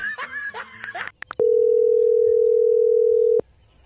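A telephone dial tone sounds as a call is placed, a steady, loud, unbroken hum lasting about two seconds, preceded by brief laughter and a couple of sharp clicks, then cutting off abruptly.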